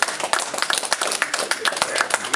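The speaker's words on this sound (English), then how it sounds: "We're going to give a clap for Hina winning." An audience claps for Hina, a winner, at a Waitangi-area gathering in Paihia: a dense, fairly close burst of many hands with uneven sharp peaks.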